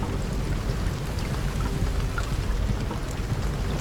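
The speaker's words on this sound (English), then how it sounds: "Rain actually sounds real." Steady heavy rain in the Deadliest Catch crab-fishing video game, a dense continuous hiss and patter with low rumble underneath, even and unbroken throughout.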